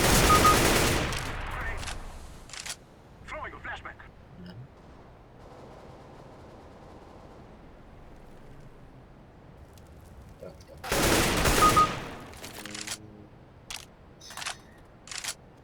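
Bursts of rapid gunfire in CS:GO at the start and again later, loud and sharp, separated by quieter stretches with a few scattered shots and faint movement sounds.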